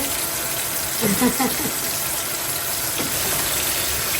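Tap water runs in a steady stream in a home kitchen, filling a vessel with a constant hiss and gurgle, with a few faint clinks partway through.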